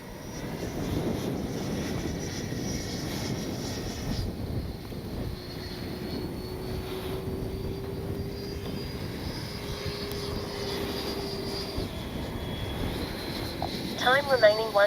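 Freewing F9F-8 Cougar 80mm RC jet flying in gusty wind, a steady far-off ducted-fan whine and rushing roar that holds at a constant level throughout, with a faint tone sliding across the middle and brief louder bumps near the end.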